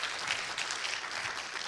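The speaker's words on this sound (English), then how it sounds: "I'm sure you can hear the round of applause" A university symposium audience at Kabarak University gives a round of applause, a dense, even wash of clapping that holds steady for under two seconds at moderate volume and sounds from a distance.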